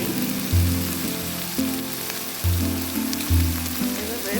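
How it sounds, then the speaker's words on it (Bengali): Small fish, including baim, fry and are stirred in spiced oil for a spicy chorchori. A steady, close sizzle continues beneath tonal background music, with no speech. "কষিয়ে নিচ্ছি, হালকা একটু ভাজাও হচ্ছে, সাথে কষানো হচ্ছে একই সাথে।"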